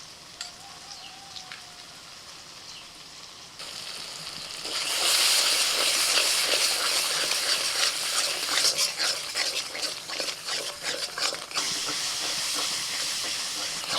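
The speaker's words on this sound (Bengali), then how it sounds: "এইভাবে আস্তে আস্তে মশলাটাকে মিনিট 5-7 ধরে কষিয়ে নেব" Masala paste with ground coconut, cashew and melon seed sizzles in a pan for a pointed gourd and prawn curry, starting as a soft hiss and turning into a louder, crackling fry with occasional stirring.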